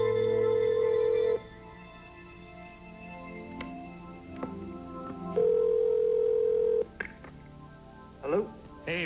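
Phone call placed to a radio show listener in Truro, Nova Scotia: steady dial tone bursts and a quick run of touch-tone beeps, then ringing, with faint background talk throughout.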